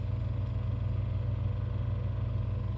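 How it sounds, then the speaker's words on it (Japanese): A generator runs outside a camper van while someone listens from inside during a typhoon-related power outage in Chiba, giving a steady, muffled low drone with a faint pulsing throb and no voices. "を稼働してる時に室内で感じる音ですね。"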